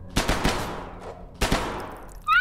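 Video game gunfire in a co-op horror shooter, a quick volley of sharp close shots followed by another burst, loud and punchy with a brief tone at the end.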